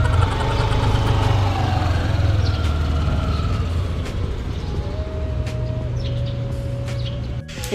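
A borrowed motorcycle engine idles close by with a steady low throb, while birds chirp faintly in the background and no one speaks.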